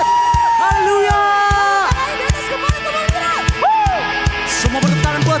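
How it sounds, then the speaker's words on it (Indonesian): A church congregation cheers, whoops and shouts praise to God, loud and close, with rhythmic thumps and a microphone voice over the crowd. "Sekali lagi berikan sorak-sorak kemuliaan terasa buat Tuhan."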